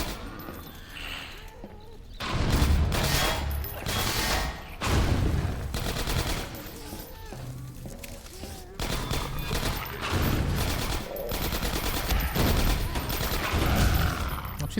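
Automated turret gunfire in Half-Life 2: Episode One comes in loud, sustained rapid bursts, with short gaps between volleys, over other combat noise and a voice talking.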